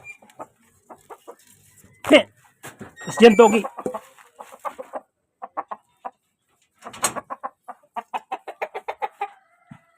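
White chickens cluck in short bursts close by during feeding, with scattered squawks and a louder flurry partway through; a person speaks briefly among them.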